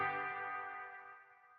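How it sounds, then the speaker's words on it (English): A single bright, sustained instrument note rings out through a plate reverb and slowly decays with a smooth, shimmering reverb tail, fading gently away. "a plate reverb. Brighter."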